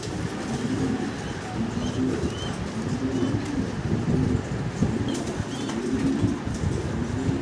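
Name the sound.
large shoking pigeons cooing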